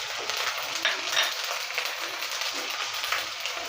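Garlic and ginger paste frying in a pan over medium heat for a coconut egg curry, giving a steady, dense close sizzle with slight crackles throughout and no talking.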